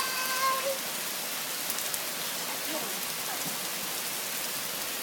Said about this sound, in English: Yeah, the rain's going hard.